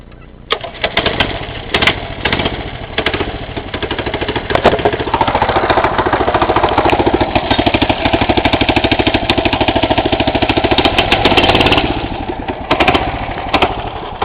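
A mini bike engine runs rough after a cold start, a loud, continuous buzzing drone with uneven, sputtering pulses that rise and surge midway, close to the microphone with no talking.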